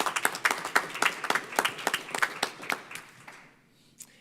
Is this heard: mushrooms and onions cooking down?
no